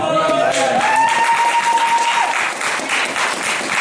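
A church congregation applauds and cheers for Jesus, loud dense clapping filling the room, with a preacher's voice rising over the start.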